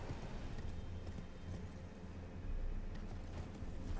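Horse hooves clip-clop steadily on the ground in the video game Elden Ring, a continuous, moderately loud rhythm filling the moment with no talk over it.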